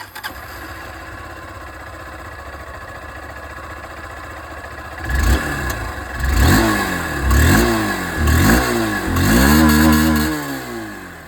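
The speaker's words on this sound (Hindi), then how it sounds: "एग्जॉस्ट साउंड बारी बारी से मैं आप लोगों को यहाँ पर दोनों ही बाइक की जो है वो सुना देता हूँ" A Bajaj Pulsar N160 or Honda SP160 motorcycle idles quietly, then the engine is revved repeatedly, five or six sharp throttle blips rising and falling, close and loud.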